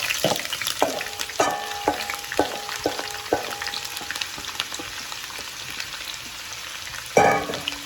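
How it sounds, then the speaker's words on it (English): Vegetables for a Bolognese sizzle steadily in a hot pan, with a constant close frying hiss broken by the repeated clinks of a utensil stirring against the metal. No one talks. "now that it's hot enough, we're going to go ahead and put in our vegetables. Give that sizzle."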